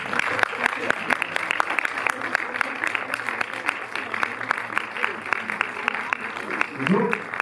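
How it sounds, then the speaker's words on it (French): Cinema audience at a Paris UGC theatre applauding an actor at a film presentation, a moderately distant, sustained patter of many clapping hands with sharp individual claps standing out, a brief voice near the end. "Benjamin Voisin, que je vous demande d'applaudir chaleureusement."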